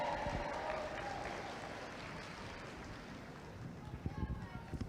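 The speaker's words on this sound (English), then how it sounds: "Give them another big round of applause." Spectators at an outdoor thoroughbred horse racing event applaud in a faint, diffuse wash, heard at a distance and mixed with wind and low rumbling noise, with a few sharper claps near the end.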